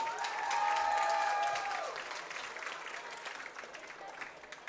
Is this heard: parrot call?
no